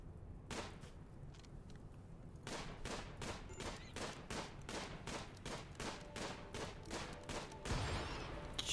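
Rifle fire in the video game RimWorld, with an early lone shot followed by a long run of sharp, evenly spaced reports crackling close and loud, and no voices over it.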